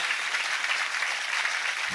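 A satsang audience claps together as a blessing, dense steady applause filling the room at close range for about two seconds.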